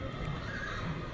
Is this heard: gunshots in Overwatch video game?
no